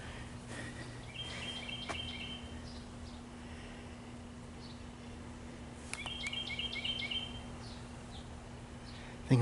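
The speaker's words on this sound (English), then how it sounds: "Shaded, you can hear the birds." Small birds chirp and twitter faintly in a shaded park at a Florida beach town, scattered short calls drifting over a low steady hum, with a brief rustle near the end.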